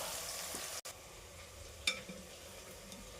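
Mint frying in a pan for chicken biryani gives a faint, steady sizzle with a brief dropout and one light metallic clink partway through, with no talk.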